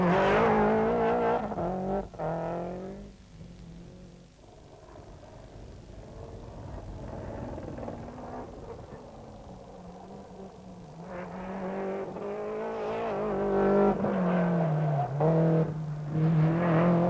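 Toyota rally cars at the 1991 Tour de Corse roar past with rising and falling engine notes and gear changes, loud and close at the start and end with a quieter stretch between.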